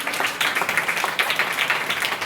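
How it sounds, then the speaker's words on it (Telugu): A church congregation at a Sunday message claps steadily, a dense, continuous wash of many hands heard from within the room, fairly loud and even throughout. "గట్టిగా చప్పట్లు కొట్టామా?"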